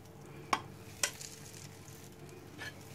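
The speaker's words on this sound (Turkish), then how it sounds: "Kızgın yağ şimdi hengelimizin üzerine ilave edeceğiz." Hot browned butter is poured over hangel, a Turkish yogurt and garlic dough dish, giving a soft continuous sizzle with a few sharp crackling spits, close and quiet with no talk.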